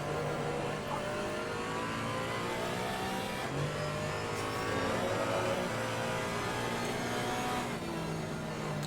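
GT4 race cars accelerate around the Kyalami circuit in a sim racing league event, a continuous, dense engine roar with several cars rising through the gears together, steady and loud without a break.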